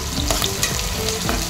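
Sliced onions fry in hot oil inside a pressure cooker on a gas stove, making birista for mutton biryani: a loud, dense, close sizzle with the scrape of stirring running across the whole short stretch.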